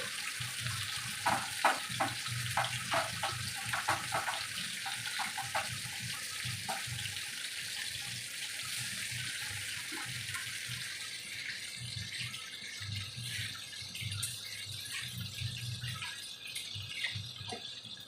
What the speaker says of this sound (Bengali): এবার আমি একে একে মাছগুলো ভাজবো।